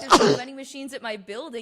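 A single sharp sneeze bursts out at the start, loud and close, followed straight away by someone talking.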